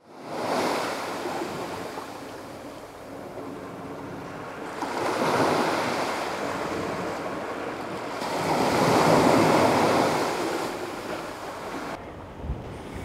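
Sea waves surge and wash along the Teignmouth sea wall beside the South Devon coastal railway, loud rolling swells rising and falling in slow cycles with steady wind noise and no talking.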